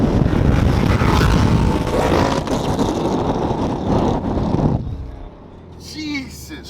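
A loud car roars past at a canyon-cruise car meet, a dense, rowdy engine blast that fills the first few seconds before dropping away, with people talking nearby.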